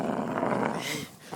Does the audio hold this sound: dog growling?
yes